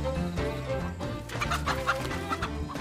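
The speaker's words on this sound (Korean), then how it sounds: "다급한 목소리와는 달리 유유자적한 모습의 닭 한 마리." A white silkie chicken clucks repeatedly in a rhythmic series of short, fairly close calls at a farm, with faint background sounds and no speech.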